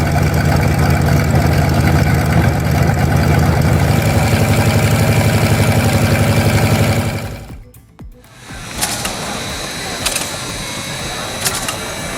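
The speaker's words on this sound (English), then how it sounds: "With 550 horsepower, this engine didn't just lift aircraft into the skies of battle." A vintage 550-horsepower aircraft engine runs with a loud, steady droning roar, then drops off sharply about two-thirds through before a quieter mechanical running sound resumes.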